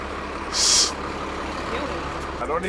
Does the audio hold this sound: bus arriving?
yes